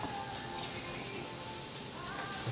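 Shrimp and salmon rinsing under a running kitchen tap, a steady, even hiss of flowing water into a sink, close and unbroken throughout.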